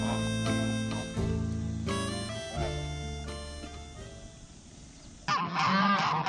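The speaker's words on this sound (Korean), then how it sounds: "그 옆에 거위들은 흥분한 채소리만 지르고 있다." A flock of excited geese honk loudly near a hen at feeding time, a burst of overlapping harsh calls in quick succession, then a short pause before another loud raucous outburst.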